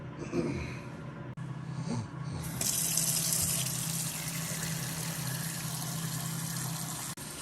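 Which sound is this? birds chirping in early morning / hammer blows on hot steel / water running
water running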